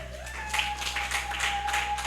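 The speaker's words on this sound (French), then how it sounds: "Acclamons pour la gloire de notre Dieu." A church congregation applauding, steady scattered clapping rising at about half a second and continuing through the rest, with a sustained tone running underneath.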